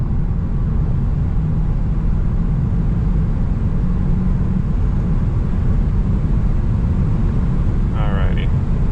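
A Tesla Model 3 Performance accelerates hard in sport mode, its steady loud road and motor roar filling the cabin, with a brief faint chirp near the end.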